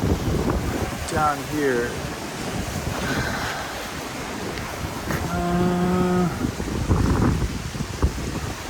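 Strong coastal wind in Pattaya, Thailand roars and buffets the microphone continuously, with surf washing underneath and a voice speaking briefly.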